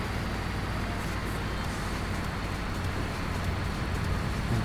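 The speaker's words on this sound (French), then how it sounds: "mais vous entendez le bruit du camion, ça le fait aussi" Scania R700 truck engine in Euro Truck Simulator 2 drones steadily under a dense, unbroken broadband roar, a constant low rumble with no clear revving.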